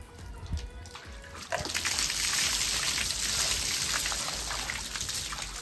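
A bucket of water pours out at home, a steady loud splashing rush that starts after a short quieter moment and continues to the end, with no talk over it.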